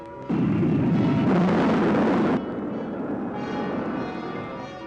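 Rocket second stage firing in a 1958 science fiction film about satellites: a sudden loud roaring blast kicks in, surges for about two seconds, then settles into a sustained, slightly quieter rushing roar with no talk.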